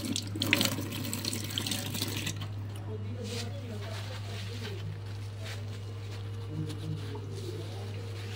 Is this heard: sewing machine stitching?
no